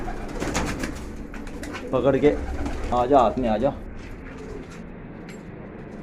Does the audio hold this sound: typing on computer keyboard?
no